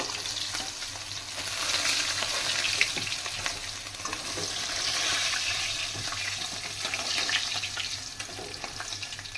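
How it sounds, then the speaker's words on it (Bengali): Chela fish frying in oil in a pan for a Bengali fish curry, giving a steady, close, dense sizzle with faint splashy crackle that swells and eases slightly throughout, with no talking. "এবারে আমি একে একে সব কটা মাছ ভেজে নেব"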